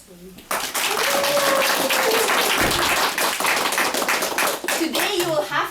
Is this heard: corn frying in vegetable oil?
no